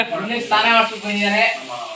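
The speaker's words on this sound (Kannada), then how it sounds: "ಇವರು ನಮ್ಮ ಅತ್ತೆಯವರು ನೋಡಿ ಫಿಶ್ ತವಾ ಫ್ರೈ ಮಾಡ್ತಾ ಇದ್ದಾರೆ ನೋಡ್ರಿ" Fish frying on a tawa in a home kitchen, a steady close sizzle with stirring and scraping running throughout, loud and unbroken.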